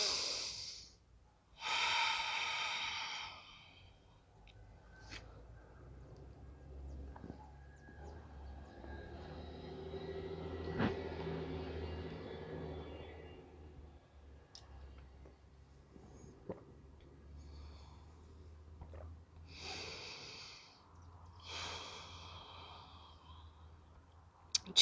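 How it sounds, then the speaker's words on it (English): Slow, deep yoga breaths taken while holding a forearm balance in a hips-and-abs session; a few close, breathy inhales and exhales, separated by long quiet stretches. "Let's take 5 deep breaths here."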